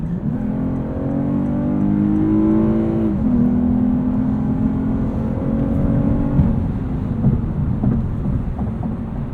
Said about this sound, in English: But the V6 does sound great